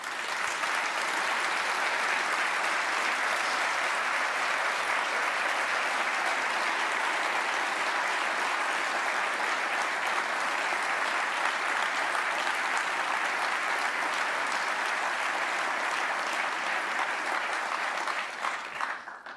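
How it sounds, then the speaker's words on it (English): Large ceremony audience at a military Hall of Heroes medal event applauding loudly and steadily for nearly twenty seconds, a dense wash of clapping that tapers slightly at the very end. "If you guys could please stand and give them a round of applause."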